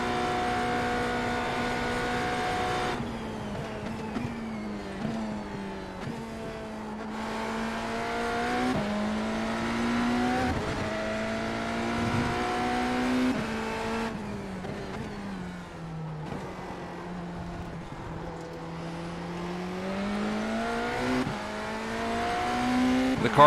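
Hypercar engine in a racing game at Daytona, a loud continuous whine rising through the gears, dipping on shifts and braking, then climbing again over a long stretch.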